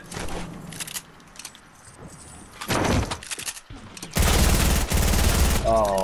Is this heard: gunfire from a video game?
yes